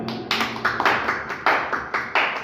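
An audience at a Ramayan recitation gathering claps in several bursts, each rising sharply and fading, loud and close with no talk over it.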